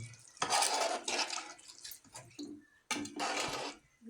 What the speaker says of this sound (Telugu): చింతపండు పులుసు పోసుకోవాలి సరిపోయినండి పోసుకొని మంచిగా కలుపుకోవాలి